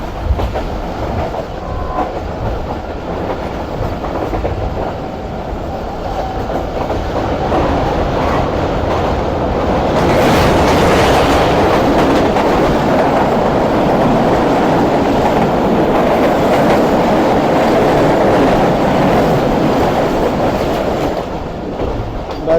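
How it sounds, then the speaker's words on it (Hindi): A train rolls past on the railway near a moving Rehman Baba Express, its loud rumble and clickety-clack of wheels over rail joints swelling midway and holding steady throughout. "और एक उधर सामने से भी ट्रेन आ रही है, शायद ये 16 कराची एक्सप्रेस है।"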